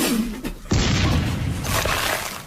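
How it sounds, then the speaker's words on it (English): A cannon boom from a Toontown Online TV commercial, a sudden loud blast that rumbles and crashes for about two seconds, dense and close, with no talk over it. "shooting himself out of a cannon"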